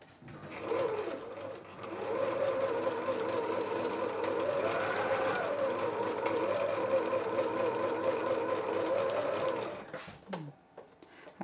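A Heritage Mini sewing machine stitches steadily for about nine seconds in a fast, even whirr, close and fairly loud, then stops; a voice speaks briefly at the end.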